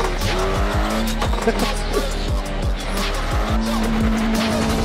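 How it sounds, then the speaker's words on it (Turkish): In an online driving game, a car engine drones with repeated tire squeals and skids as it swerves and strikes the player's character, loud and steady for several seconds. "Araba bana çarptı."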